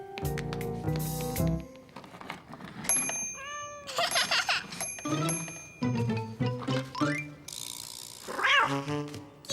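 Young voices mimic cat meows, several drawn-out mews and playful yowls in a row, mixed with cartoonish bell and ratchet sound effects.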